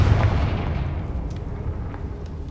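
The Confringo blasting spell going off in Hogwarts Legacy, a loud, close, rumbling explosion that hits at once and then slowly fades into a low roar.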